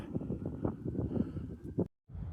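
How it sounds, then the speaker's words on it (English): Gusty wind buffets the microphone outdoors on a residential street with Christmas light displays, low rumbling bursts cutting out abruptly near the end before resuming. "Nice and windy."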